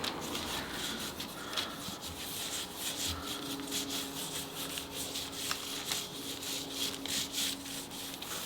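Cutting board oil being rubbed by hand into a laser-engraved wooden cutting board, a steady soft scrubbing and wiping texture that continues throughout at moderate closeness, with a faint background hum and no talking.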